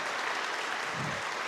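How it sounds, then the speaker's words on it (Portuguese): Congregation at a church service applauds Jesus with a steady, dense roar of clapping that holds at an even level throughout the short stretch. "Vamos aplaudir Jesus, que Ele merece."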